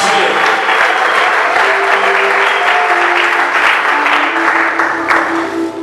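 A church congregation applauds in sustained, dense clapping that fills the room, with voices calling out beneath it.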